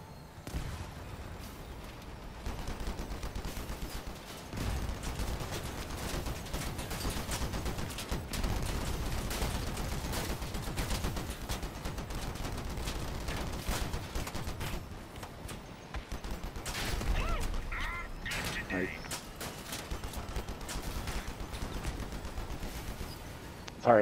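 Sustained machine gun fire in a video game hammers on in dense, loud bursts with brief lulls, steady and close throughout.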